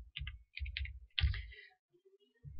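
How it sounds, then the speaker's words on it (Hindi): Several sharp mouse clicks on a computer, close and distinct, in quick irregular groups with short pauses between them. "आप यहाँ क्लिक करें और सीधा प्ले स्टोर पर क्लिक कर दीजिए"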